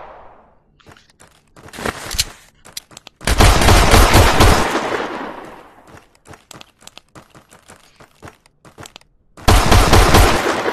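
Gunfire in the Tactical Assault VR shooter game: sharp, close, loud shots in a few separated bursts, including sustained rapid volleys, with quieter clicks and handling noises between them.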